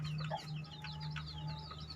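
A mother hen on her second day off the nest with seven newly hatched chicks gives soft, low clucks beneath a steady run of high chick peeps, faint and close.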